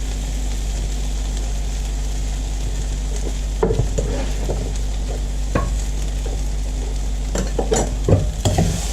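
Cooked potatoes and paneer are stirred in a frying pan, steady sizzling throughout with intermittent scraping clatters of the utensil against the pan.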